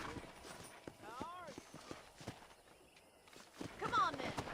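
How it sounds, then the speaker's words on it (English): Horse hooves clip-clopping at a walk in the video game Red Dead Redemption, a series of soft, evenly spaced thuds heard under spoken dialogue and light background sound. "I picked out a fine horse for you."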